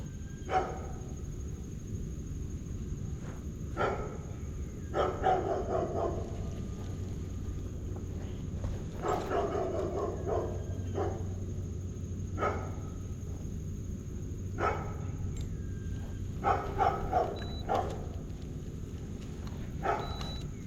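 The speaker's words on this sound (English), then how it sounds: "I know I didn't mention dogs barking in the intro" Scattered dog barks ring out at irregular intervals, somewhat distant, over a steady low outdoor hum at a grassy fishing spot.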